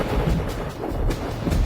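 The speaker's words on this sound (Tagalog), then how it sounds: "Kumukulog." Thunder rumbles in a low, continuous roll before rain, a steady deep noise with no voices.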